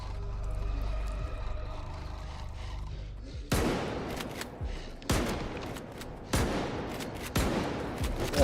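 Gunfire from the S.T.A.L.K.E.R. video game comes in sharp, loud cracks and short bursts, several shots spaced over the second half after a low rumbling stretch, with no talk.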